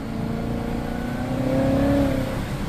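A Cadillac CTS-V engine revs up, pitch climbing steadily and loudly before easing off slightly, heard close with no voices.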